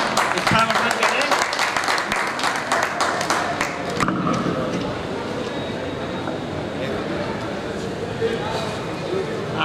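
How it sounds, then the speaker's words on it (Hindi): Audience clapping at a ceremony honoring soldiers at the border, held by a Maheshwari youth organization; dense, loud applause that is strongest in the first four seconds, then thins into scattered claps with crowd murmur. "आप तालियों से उनका उत्साहवर्धन करें।"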